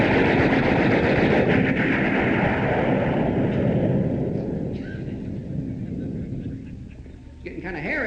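A voice imitating a 20 millimeter machine gun firing, a rapid loud stuttering burst of vocal bangs that fades into quieter sputters, with a rumbling undertone.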